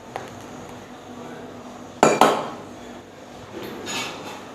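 A spoon stirring milky coffee in a glass: faint clinks at first, then a sharp burst of rapid metallic tinkling against the glass, followed by softer swirling.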